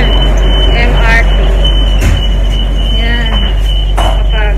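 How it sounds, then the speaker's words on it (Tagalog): Inside a moving Manila MRT train, a constant low rumble carries repeated squeals of wheels on the rails, while a voice talks close by. "Nandito na kami sa loob ng MRT."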